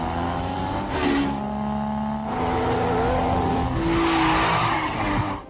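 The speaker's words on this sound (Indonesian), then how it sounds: "Kanner bersama pembalap lain langsung memacu gas mobil mereka untuk memenangkan pertandingan." Race cars in an action film race roar and rev as they accelerate, while tyres squeal and skid loudly throughout.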